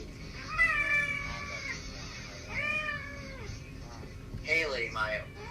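Cats meowing loudly at home, close by: three long, drawn-out meows come at roughly two-second intervals, over a low background hum and with no talk.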